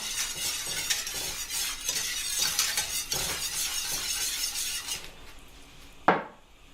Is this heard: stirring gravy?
yes